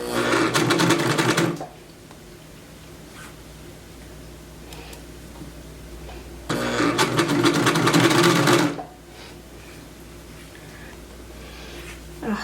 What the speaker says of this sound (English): I'm going to go ahead and put a stitch here first, so that a big stitch, so that it doesn't move around